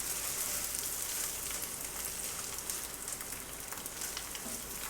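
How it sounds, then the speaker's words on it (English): An egg fries in a pan with a steady, close crackling sizzle that runs unbroken and fairly loud throughout, with no talk over it. "Take your egg, flip it."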